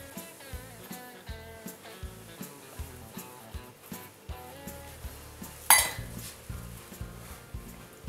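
Ricotta and icing sugar mixed in a bowl for Sicilian cannoli filling, a steady rhythm of spoon or whisk knocks against the bowl, roughly two a second, with one louder clink near the end.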